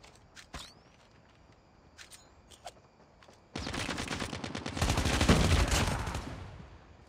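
Gunfire in a one-versus-one video game match, scattered single shots and clicks at first, then a sustained loud burst of rapid automatic fire lasting several seconds.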